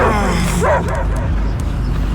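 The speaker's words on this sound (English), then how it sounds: "I hear only barking." Dogs barking and yipping inside Marvel's Guardians of the Galaxy on PC, loud and close, with a whimpering edge, heard over a constant low game ambience.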